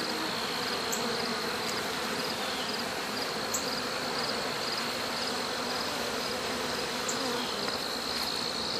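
Dense, continuous buzzing of many honeybees around a hive in late summer, a steady close drone with no breaks and no voices.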